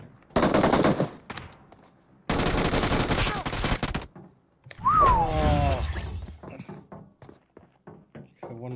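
MG3 machine gun fire in PUBG Mobile comes in loud, sharp bursts of rapid shots separated by short gaps, with glassy shattering in between and a swooping whistle-like sound near the middle.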